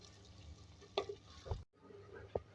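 Onions fry in a pan with bay leaf, black cardamom and cinnamon, giving a faint, steady sizzle broken by a few soft stirring scrapes and clinks.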